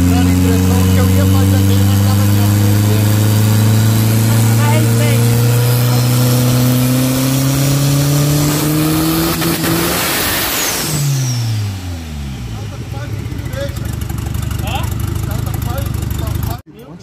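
A Chevrolet Chevette Sonic engine being tuned climbs steadily from idle into a loud, close rev, then drops back and settles into a rough idle, with voices around it.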